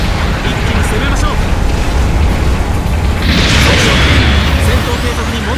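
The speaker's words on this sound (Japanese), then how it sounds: "後方部隊からの支援砲撃が来ます。" Support artillery bombardment in a Gundam game, heard as a dense, continuous, loud low rumble of explosions with a brighter burst of blast roughly midway. A voice talks over the bombardment.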